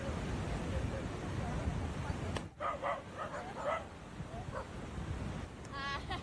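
A dog barks in a few short bursts and then whimpers in high, wavering tones, set against steady wind- or surf-like noise with some voice in the background.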